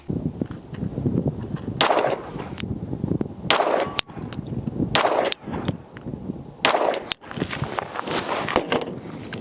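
Pistol shots ring out from a DUSK 19 Glock clone being zeroed with an RMR sight at 10 yards on a range, sharp loud cracks spaced a second or two apart with quieter handling noise in between.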